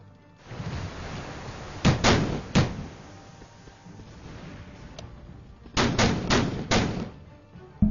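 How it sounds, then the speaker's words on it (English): Naval gun turrets fire in the Victory at Sea Atlantic warship game, as heavy muffled booms: a pair of shots, a pause, then a rapid cluster of four, over a low rumbling background. "All guns that can fire at the target point will fire."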